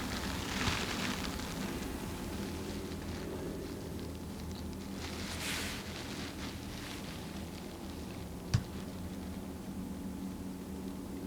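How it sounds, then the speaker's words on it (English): Rain is starting to fall on a hunting blind, a soft steady patter and hiss that stays even and close throughout, broken by one sharp tap near the end, with no voices. "Starting to rain. Glad I'm in the blind, staying warm and dry."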